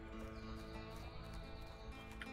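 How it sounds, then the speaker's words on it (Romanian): Horses gallop in the video game A Way Out, a quiet, continuous clatter of hooves mixed into dense game audio with a constant tonal background, faint and somewhat distant. "Let's just hope these horses keep running."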